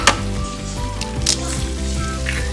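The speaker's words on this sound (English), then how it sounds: "we have 2 small eggs that we are going to fry" Two small eggs fry in a pan with a loud, steady sizzle and a few sharper crackles and pops, close up.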